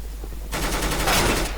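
Rapid automatic gunfire from a CS:GO match against bots, a dense burst starting abruptly and continuing loudly for over a second.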